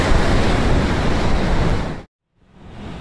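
Loud, dense wind roar mixed with surf buffeting the microphone on California's Lost Coast, cutting out abruptly for a moment before the rushing noise swells back.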